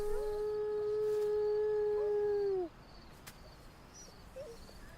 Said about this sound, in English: They will howl, they will yap, they will use a fairly wide range of vocalizations.